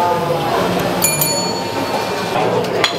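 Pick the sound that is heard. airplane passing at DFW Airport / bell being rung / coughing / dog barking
bell being rung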